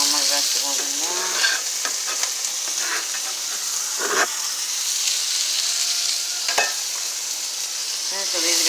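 Vegetables sautéing in olive oil for homemade meatball sauce, a steady broadband sizzle throughout with occasional stirring clatter and utensil knocks, close and fairly loud.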